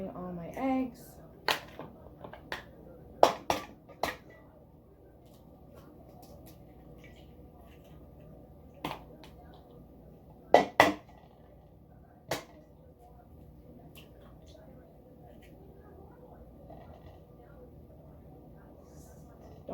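Eggs are cracked for cookie batter, giving sharp, isolated taps and cracks in small clusters spread over a quiet kitchen background, with a voice talking in between.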